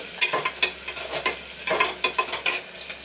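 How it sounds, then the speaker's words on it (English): Onions and bay leaves sizzle in hot oil while a utensil stirs them in repeated scraping bursts, close up and moderately loud, with no talking. "So I have put in the oil, onions and tej pata. This is frying, you can see."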